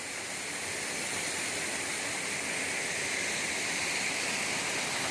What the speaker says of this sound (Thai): จุดนี้เป็นจุดที่ว่าน้ำตกลงมา